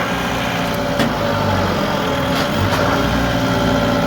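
Massey Ferguson 2705E tractor engine running steadily while the hydraulics lift the back end off the ground, a loud, continuous near rumble with no talk.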